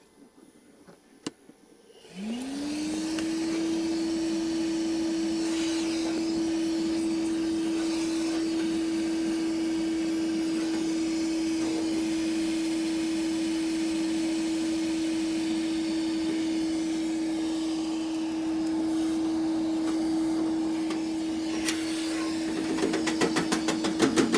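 Small Milwaukee vacuum cleaner switching on after a quiet moment, spinning up into a steady whining motor hum that runs continuously and close by.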